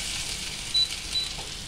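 Chopped ginger and black cumin fry in hot oil with a steady, even sizzle at moderate volume and a faint clink or two of utensils.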